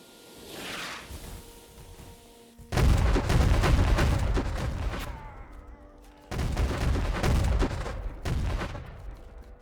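A basket of 6-pound artillery shells bursts in a Civil War-era battle video game, two loud waves of rapid overlapping explosions and crackling blasts that roll on and fade, the second barrage starting abruptly after a brief lull.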